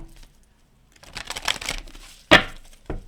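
Angel and ancestor oracle cards are shuffled by hand in a few quick riffling bursts, with soft papery rustles followed by a sharp snap and a lighter tap, close and otherwise quiet.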